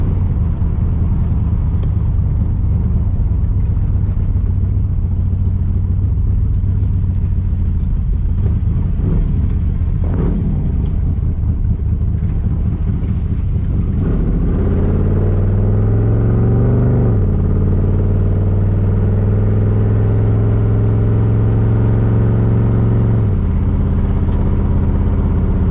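A 1982 Camaro engine idles and runs with a newly fitted exhaust, needing timing adjustment and fresh gas; a loud, steady low rumble holds throughout, with a brief rise in pitch midway as if revved, and no talking.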